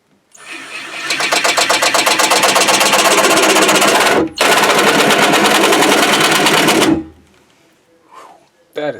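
A BMW Z3 power window regulator motor with broken mounts whirs loudly and steadily for about six seconds, cuts out briefly midway, then stops into quiet.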